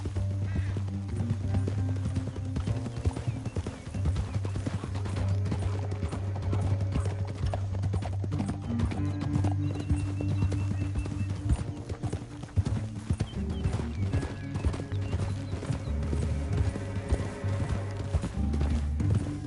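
Steady clip-clop of video game horse hooves at a gallop, continuous and rhythmic, over a low rumbling background with an occasional whinny.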